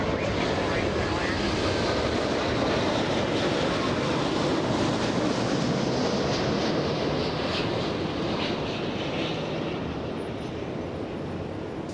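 A jet airliner lands on a runway at Los Angeles International Airport, its loud, broadband engine roar steady and close throughout, with voices faintly underneath.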